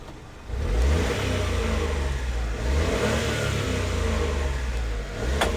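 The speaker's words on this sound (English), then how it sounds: "Give it some gas." Small engine of a 1995 Honda Acty mini truck converted into a fire truck revving up from idle, loud and close, holding a high buzzy drone with slight rises and a dip near the end.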